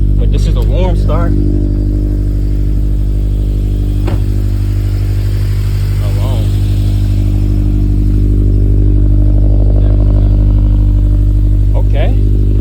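2013 Subaru BRZ with a Tomei UEL unequal-length header idling after a warm start, a loud steady low engine drone with a few brief speech-like sounds over it.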